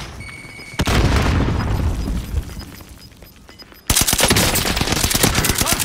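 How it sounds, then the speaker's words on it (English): In a Warzone match on the Caldera map, a frag grenade explodes with a sudden heavy boom, followed by rumbling debris, then bursts of rapid automatic gunfire crack loudly and close. "Tossing a frag."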